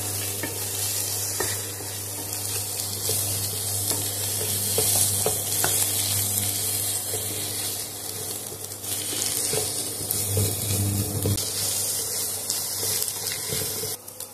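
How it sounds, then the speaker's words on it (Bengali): Egg frying in a pan for Bengali egg bhujia, a steady close sizzle with occasional stirring scrapes running throughout, no talk. "ডিমটাকে ভালোভাবে ভেজে নিতে হবে যেন আষ্টে গন্ধটা না থাকে।"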